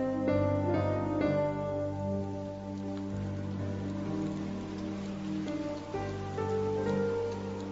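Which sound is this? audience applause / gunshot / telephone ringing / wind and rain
wind and rain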